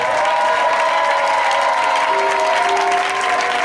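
A church congregation applauds and cheers in praise during a Sunday revival service, steady loud clapping and crowd noise filling the whole stretch with a sustained tone beneath.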